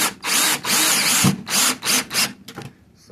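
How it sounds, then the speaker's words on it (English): A power drill drives long screws into the wooden bottom of a bee nuc, with several loud, close whirring bursts broken by short pauses and a final brief spin-up, with no talking. "I'm going to put these long screws into the bottom of the"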